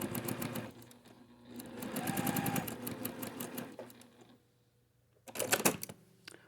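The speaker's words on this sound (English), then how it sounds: "We're going to go back into the machine and stitch 1/4 inch on this side." Sewing machine stitching a quarter-inch seam on a quilt block, with quick rhythmic needle clatter in two bursts, a brief pause, then a short final run, close and moderately loud.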